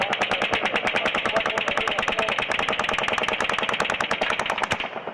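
Rapid automatic gunfire from the Las Vegas shooting at Mandalay Bay, heard as a dense, unbroken burst of shots that fills nearly five seconds and then stops abruptly.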